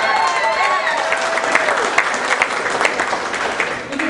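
Applause from the audience at a Marine Corps dinner, a burst of clapping with individual claps standing out as it thins, plus a voice and a whistle near the start.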